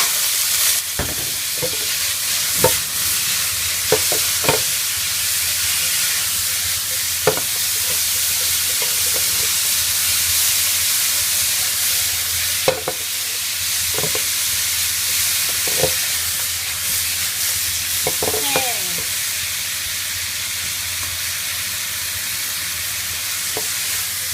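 Steady loud sizzling of food frying in hot oil, with scattered clinks and scrapes of a utensil stirring throughout.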